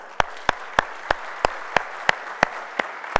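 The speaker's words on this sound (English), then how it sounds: "Let me get a big round of applause" A conference crowd at a software developer keynote claps in unison, sharp evenly spaced claps about three per second over a soft background, sounding like a steady rhythmic beat rather than loose applause.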